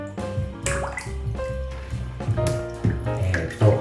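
A pet swims and paddles in warm bath water, making close, intermittent splashes, drips and sloshing in short bursts.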